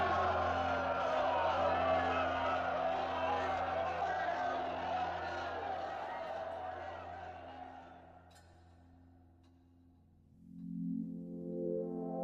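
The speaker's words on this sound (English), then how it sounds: "Now they're all cheering him, and the whole crowd have raised their right arm." A huge crowd cheers at the 1936 Berlin Olympics opening, a sustained distant roar of many voices that slowly fades, followed by a brief brassy musical swell.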